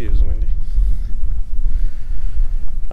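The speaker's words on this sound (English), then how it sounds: "I told you it was windy." Strong wind buffets an outdoor campsite with tents in Caprock Canyon, a heavy low rumble of gusts against the microphone that pulses unevenly throughout, with a brief voice at the start.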